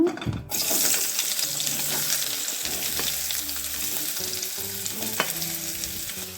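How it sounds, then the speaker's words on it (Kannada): Onion fries in oil in a pan on a gas stove for a restaurant-style chana masala, a strong, steady close-up sizzle with occasional stirring scrapes, and no voices. "ಚೆನ್ನಾಗಿ ಫ್ರೈ ಮಾಡ್ಕೊಳ್ಳೋಣ ಬ್ರೌನ್ ಕಲರ್ ಬರೋವರೆಗೆ ಫ್ರೈ ಮಾಡ್ಕೊಳ್ಳೋಣ"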